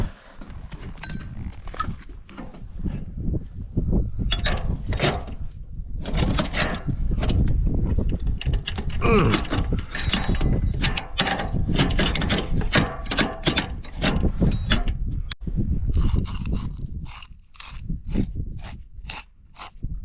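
Worn bearing being worked off a shaft on a Case IH 2188 combine, loud close bursts of scraping, knocking and grinding metal in irregular rhythm with brief pauses, no talking.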